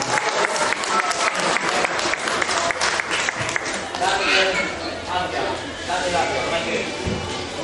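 Martial arts demonstration audience applauding after a board break, loud dense clapping that thins out midway as a voice and crowd murmur come in underneath.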